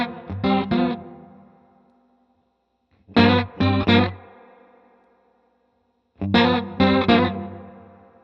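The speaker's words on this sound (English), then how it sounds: "the sound of a distant mic in the room picking up the sound of the Leslie" A chorus-warbled electric organ through a JHS rotary chorus pedal with its room effect on plays three short chord stabs, each ringing out into a swirling, roomy tail before silence.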